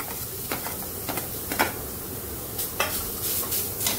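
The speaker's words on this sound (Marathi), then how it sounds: "छान कांदा बिना तेलावरतीच आपल्याला असं परतून घ्यायचं" Chopped onion is tossed around a dry pan with no oil, giving soft sizzling under repeated scraping and clattering stirs of a spoon against the pan, close and fairly quiet, with no voices.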